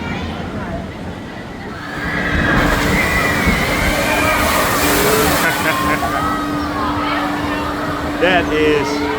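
A water splash ride at the Dream World amusement park in Thailand sends a big, loud rush of sloshing water after a quieter start, with people talking and a faint tone running underneath.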